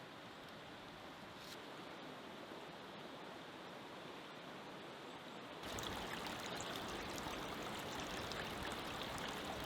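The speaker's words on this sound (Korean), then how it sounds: "얼음 사이로 흐르는 물줄기 소리는 만물이 아직까지 소생하고 있다는 것을 느끼게 해준다." Meltwater stream running between ice on a winter mountainside in a forest, a steady broadband rush that swells louder partway through, continuous with no voices.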